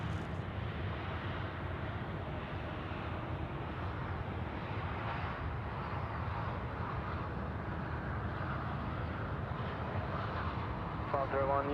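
China Eastern flight 791 from Nanjing on approach to runway 34 left at Sydney Airport, joining left downwind. A steady, loud, broad jet roar holds for the whole stretch, with indistinct voices murmuring underneath.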